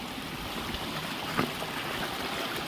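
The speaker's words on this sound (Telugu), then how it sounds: "ray మస్తుందిరా water falls" Dhone waterfall at Ankola pouring down, a steady, dense rushing wash of water that stays even and fairly loud throughout, with one brief sharper splash near the middle.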